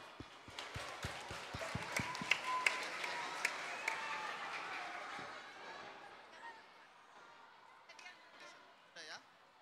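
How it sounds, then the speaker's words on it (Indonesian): Children applaud after answering a church quiz about the Garden of Gethsemane, with a burst of quick, sharp claps early on that thins out and fades, followed by scattered voices chattering in the room. "Tepuk tangan dulu dong."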